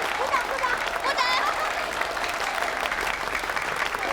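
Applause from a small group urging a couple to dance together, steady clapping with voices mixed in throughout, fairly near and moderately loud.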